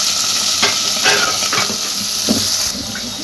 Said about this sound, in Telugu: తాలింపు అయితే వేసేసుకున్నా అండి